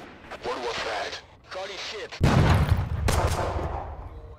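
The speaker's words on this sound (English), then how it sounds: "The grenade hit the roof of the cave and I blew up one of my own squad mates." A grenade detonates inside a cave tunnel in the game Thunder Tier One, a sudden loud blast that follows a stretch of talking. A rumbling tail and a second sharp burst come after it.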